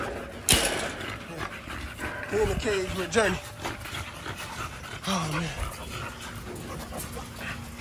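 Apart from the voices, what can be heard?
American Bully dog panting and whimpering in a cage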